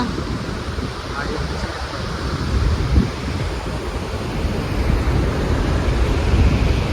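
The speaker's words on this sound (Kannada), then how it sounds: "ಫುಲ್ ಪೂರ ಮ್ಯಾಗ ನೀರು ಬಂದು ಹರಿಯತೈತ್ರಿ" Overflowing water at Gokak Falls and Hidkal Dam roars as a dense, steady rush of broadband noise, loud and continuous, with some wind buffeting.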